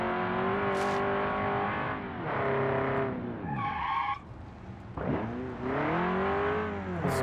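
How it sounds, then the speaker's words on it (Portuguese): A boxy VW Gol in the BeamNG.drive game revs hard through repeated gear climbs, engine pitch rising and dropping with tire squeal and skids, a brief dip mid-run before it pulls again loudly. "Carrinho corre demais esse golzinho, ó."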